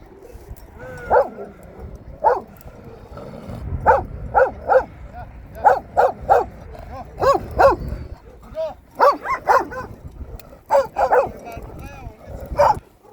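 Flock guard dogs bark in repeated bursts near a sheep flock, some yipping, with people talking throughout.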